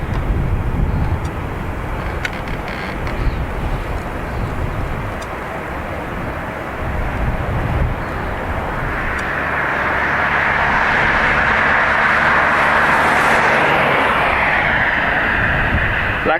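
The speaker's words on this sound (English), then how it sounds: "There's the WestJet Dreamliner you just saw land." Broad, steady roar of a WestJet Boeing Dreamliner after landing at Dublin Airport, building and swelling in the second half with a rising whine, heard from outdoors at a moderate distance with no voices.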